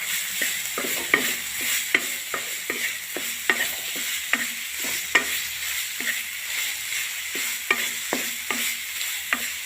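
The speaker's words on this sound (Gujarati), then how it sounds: "જ્યાર સુધી ઘી છૂટી જાય ત્યાર સુધી આપણે શેકવાનું" Steady stirring in a pan, with sharp spoon scrapes every second or so over a low, continuous sizzle of finely crushed beetroot roasting in ghee.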